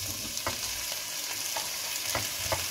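Roasted butternut squash sizzling in a pan while making butternut soup, a continuous frying hiss with periodic stirring scrapes, close and steady, with no voices.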